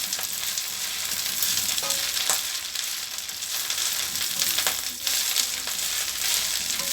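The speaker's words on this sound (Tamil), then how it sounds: "இப்போ நம்ம நல்லா வதக்கிக்கிறோம் இதை கொஞ்சம் முறு முறுன்னு வர அளவுக்கு வதக்கிடுவோம்" Drumstick leaves sautéing in oil toward crispness give a loud, continuous close sizzle, broken by occasional spatula scrapes and stirring clatter.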